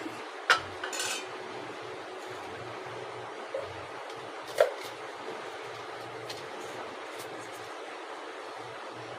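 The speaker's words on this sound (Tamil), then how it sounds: "அதை போட்டு கிண்டிக்கலாம்." A utensil clinks sharply against a pot twice, with soft stirring and quiet kitchen hiss in between; no talking.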